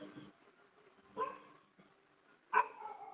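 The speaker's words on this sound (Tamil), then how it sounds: "யார் வீட்லயோ நாய் கேக்குது." Dog barking from a neighbour's house, three faint, distant barks spaced apart with quiet between them.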